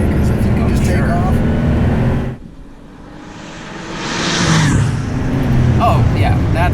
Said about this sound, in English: You definitely feel the turbo kicking in.